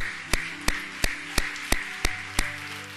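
A church congregation at a Sunday worship service in Seoul claps in a steady beat, about eight evenly spaced claps over a soft, sustained musical drone.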